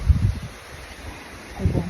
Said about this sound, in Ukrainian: Вітер такий.